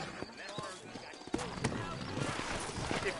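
Horse hooves clop in a steady rhythm on hard ground in the video game Red Dead Redemption, with someone talking over them and faint background ambience.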